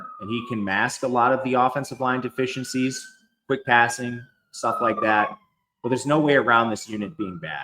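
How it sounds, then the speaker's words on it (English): Police sirens outside sound faintly through a room, a thin gliding wail behind someone speaking steadily and close to the microphone. "Excuse the sirens."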